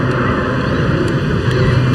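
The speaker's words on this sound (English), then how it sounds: "And rolling the aircraft while the turbines are on as well." A Jet Pitts display aircraft rolling with its jet turbines running at a seaside airshow, a loud continuous roar with steady droning engine tones throughout, no voices.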